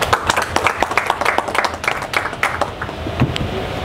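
A church or ceremony audience in Congo applauds loudly, a dense burst of many hands clapping that stays strong for several seconds before thinning slightly.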